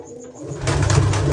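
A pigeon coos loudly and close by, its low throaty rolling call starting after a brief quieter moment and continuing steadily.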